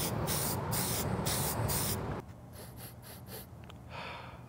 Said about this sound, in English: so I am gonna clear coat it with some varnish. I've got gloss varnish here.